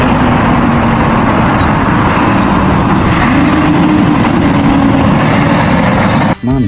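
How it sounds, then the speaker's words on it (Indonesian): A toy container truck gives off a loud, continuous engine drone, a rough idling rumble held steady for several seconds and cut off by a short knock near the end. "Di sini ada mobil kontainer."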